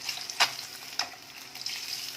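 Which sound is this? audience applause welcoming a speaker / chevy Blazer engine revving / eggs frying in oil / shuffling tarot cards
eggs frying in oil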